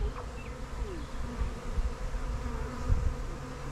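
A honeybee swarm drones outdoors, a steady low buzzing from many bees with individual bees passing close, moderately loud and continuous.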